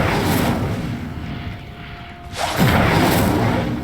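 Incendio fire spell cast in Hogwarts Legacy, a loud roaring whoosh of flame that surges, dips briefly, then bursts back up with a heavy low-end boom and sustained crackling rush.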